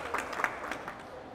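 A brief round of applause from an audience at a World Psoriasis Day event welcoming a patient advocate, scattered claps peaking early then thinning out over a second and a half.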